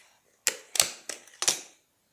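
An air rifle's barrel is broken open and cocked, giving four sharp mechanical clicks and clacks in quick succession, close and fairly loud, with no voice over them.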